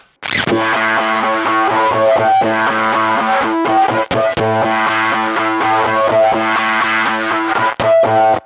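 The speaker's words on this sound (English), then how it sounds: "we come back with the intro fuzz, but this time it's got kind of like a wah effect on it" Loud, heavily distorted fuzz guitar riff with a sweeping wah filter, chords chugging steadily with brief gaps between phrases.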